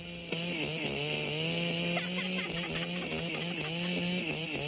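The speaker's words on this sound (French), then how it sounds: "On dirait une tronçonneuse." A chainsaw runs at a steady, loud, buzzing drone throughout, its engine pitch wavering slightly as it works.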